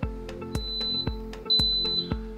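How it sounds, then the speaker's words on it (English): A waffle maker beeps with steady sharp electronic tones in a regular rhythm, about five or six pulses, loud and close with no talking. "the waffle maker's beeping at us"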